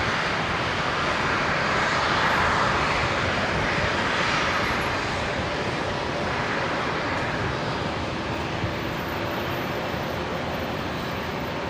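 A QantasLink Dash 8 arrives at Brisbane Airport, its engine noise a steady, fairly loud drone that swells slightly early on and then holds evenly, with no voices over it.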